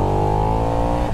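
A KTM Super Duke R 1300cc V-twin motorcycle engine revs loudly and up close, a thick, sustained throaty roar that holds steady for about a second before starting to fall away.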